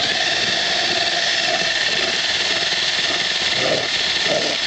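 A drill drives an EZ Creamer through an ear of corn at high speed, giving a steady, close, continuous whirring grind that holds evenly for the whole stretch with no talk.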